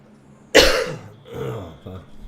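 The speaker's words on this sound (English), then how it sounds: "Still coughing my guts up." One person gives a single harsh, loud cough up close, followed by a softer, rougher cough and a faint throat-clearing rasp.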